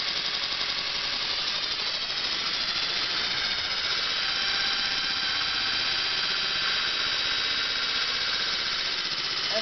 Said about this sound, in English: rev it just a little bit.